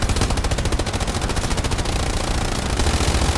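Sustained enemy machine gun fire in a video game battle, rapid continuous bursts close and loud with heavy low rumble, steady throughout with no talking.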